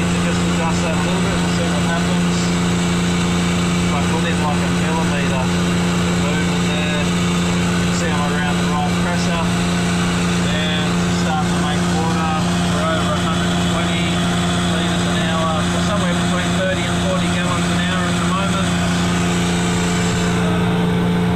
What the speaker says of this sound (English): and I'm going to put the main pump on.